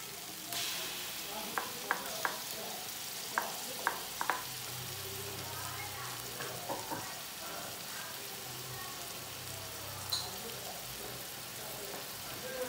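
Ginger garlic paste sautéing in a pan for Arabic biryani, giving a steady faint sizzle with scattered stirring scrapes and clicks throughout.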